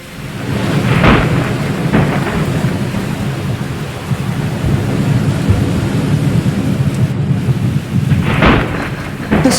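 Thunderstorm with heavy steady rain pouring down and several loud thunder cracks and rumbles breaking through, no voices.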